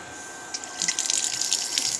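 Water gushes out of a March brewing pump as it is primed during an electric all-grain brew day, a steady close splashing flow that swells after a half-second start and keeps running.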